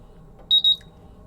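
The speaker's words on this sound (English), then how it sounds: "we'll see that the instrument is in alarm still because there is still calibration gas present" A MultiRAE gas detector sounds its alarm after exposure to calibration gas, giving a loud, shrill burst of rapid high beeps that lasts about a quarter of a second over faint background hum.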